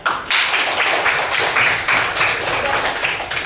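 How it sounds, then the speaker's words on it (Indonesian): Classroom applause during an Indonesian language lesson, a burst of brisk, close clapping from students that starts abruptly and continues with a choppy, uneven rhythm for about three seconds. "beri tepuk tangan"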